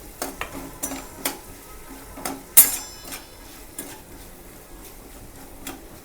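A utensil stirs red chili powder into okra and potato curry in a pan, scraping and tapping irregularly against the metal, with one sharp clink and a faint sizzle underneath.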